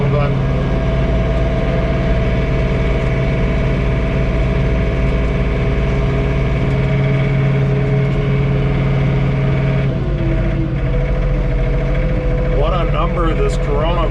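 A John Deere 3046R compact tractor runs inside the cab during a blizzard, a loud, steady engine drone with a strong low hum, a shift in pitch partway through and a voice talking toward the end.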